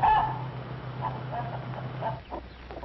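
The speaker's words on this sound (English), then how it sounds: "2 months old chickens and almost grown up." Two-month-old, nearly grown chickens on a farm give a few faint clucks and chirps over a steady low hum, with soft intermittent calls scattered through the short stretch.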